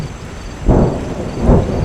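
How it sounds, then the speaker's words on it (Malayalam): Rain and thunder for a horror audio story, with steady rain hiss and two deep, rolling thunder rumbles rising and fading about a second apart. "മഴയുടെ ശബ്ദവും ദൂരെ കാറ്റിൻ്റെ ഉലച്ചിലും മാത്രം കേട്ടു"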